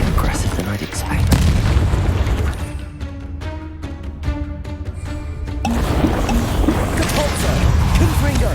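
Confringo fire spells blast in Hogwarts Legacy, loud booming bursts at the start and again near the end, with game voices and a softer music passage in between.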